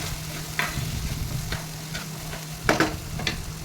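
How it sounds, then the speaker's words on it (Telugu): Brinjal curry stirred in a pan with turmeric and salt, a soft steady sizzle under repeated scraping strokes of a spoon, several sharper scrapes standing out, close by with no voices. "తగినంత పసుపు, తగినంత ఉప్పు వేసుకొని 1 నిమిషం కలయబెట్టి"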